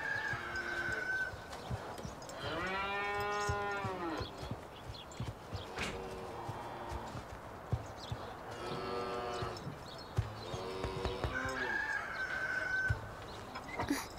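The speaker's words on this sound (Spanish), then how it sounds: "Lleva la vaca al campo." A cow on a farm gives several long, drawn-out moos spread across the scene, moderately close, with a rooster crowing in the background.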